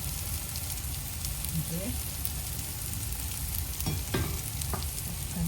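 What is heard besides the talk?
oil sizzling in a hot pan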